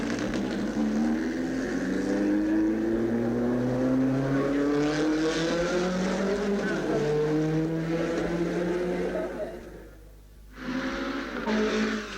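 Stirling Moss's race car pulls away from a pit stop, its engine loud and close, rising in pitch through the gears before a brief dip and a renewed surge.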